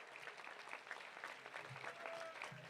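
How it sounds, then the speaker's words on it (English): Faint, steady applause from a high school graduation audience, distant-sounding and continuous for a few seconds with light murmuring beneath. "Come on, round of applause."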